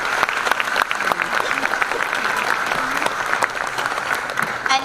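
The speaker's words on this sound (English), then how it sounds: "Let's give our auditors and judges one final round of applause." Pageant audience giving a final round of applause for the auditors and judges, sustained dense clapping from a crowd with a few whoops mixed in, steady throughout.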